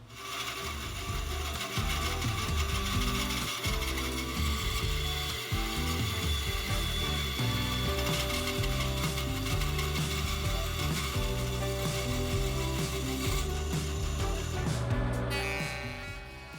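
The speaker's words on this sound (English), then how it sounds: "And I'll make this cut with the bandsaw." A bandsaw cuts through a wooden frame piece with a steady, rhythmic mechanical whir and rattle, and the sound eases off at the end. No one speaks.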